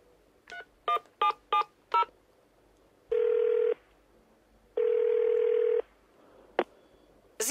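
Telephone keypad dialing tones ring out as a quick series of five short beeps, followed by two longer steady ringback tones, when calling a service number; clear and close, with no talking.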